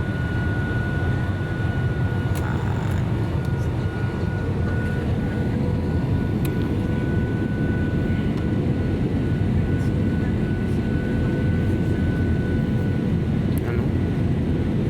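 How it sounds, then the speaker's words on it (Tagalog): Loud, steady engine roar fills an airplane cabin during flight, a dense continuous drone with a faint whine, while people talk quietly beneath it. "ito yung sakay ng mga tao, sakay ng eroplano"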